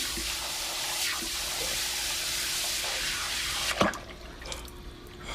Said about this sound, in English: You don't like water spraying in your face?